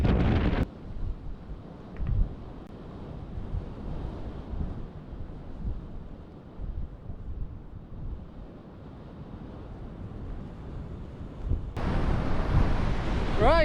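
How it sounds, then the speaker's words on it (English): Strong wind buffets the microphone on Skiddaw summit, the highest northern fell in the Lake District, roaring steadily and loud throughout, with harsher gusts at the start and end. "It's very windy, I'll show you."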